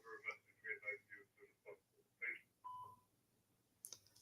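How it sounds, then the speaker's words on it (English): A phone sounds in the background during a live tennis play-by-play stream, a quick run of short bright tones or beeps followed by a longer held tone, faint and under low room noise. "That's my phone in the background."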